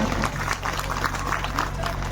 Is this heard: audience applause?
yes